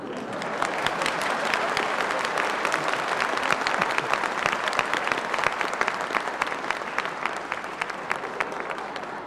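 A studio audience applauds a comedy sketch, a dense, loud and continuous round of clapping with crisp individual claps standing out, lasting the whole span.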